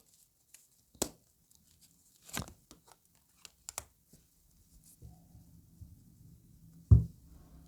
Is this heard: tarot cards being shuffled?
yes